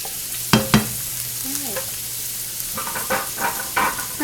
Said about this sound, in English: Now what we're going to do is just cook this until our garlic and our onions get brown